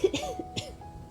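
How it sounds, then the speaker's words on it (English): A streamer gives a couple of quick, close coughs in quick succession, with a slightly hoarse, raspy edge and a brief pause between them. "I had to cough."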